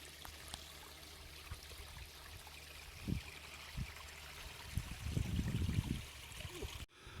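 A mountain stream flows and trickles steadily near a wild camp on the Isle of Arran, a soft continuous wash with a few low thumps and rustles close by.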